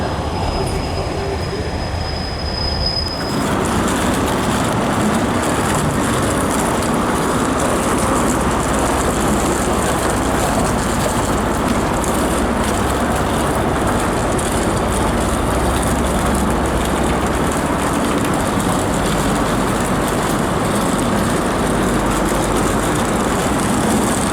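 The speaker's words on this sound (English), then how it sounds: "Two HSTs on the platform," Two HST diesel trains at a station platform, with a loud sustained engine roar and rail noise that swells after a brief quieter moment at the start, steady and close for the rest.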